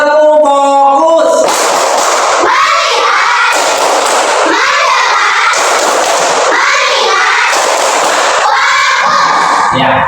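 A primary school class performs a clap chant together, bursts of group claps in a rhythmic pattern separated by the children's chanted voices, loud and close in a classroom.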